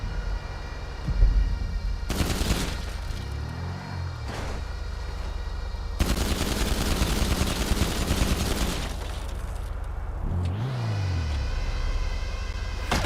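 AP pistol gunfire in GTA 5 Online, bursts of rapid shots in several volleys separated by quieter stretches, with passing engine and siren-like tones between them.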